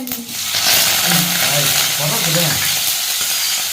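Onions sizzle and crackle in hot oil in a pan while prawn curry is cooked in a home kitchen in Jaffna; a steady, close frying hiss runs throughout with a voice talking over it.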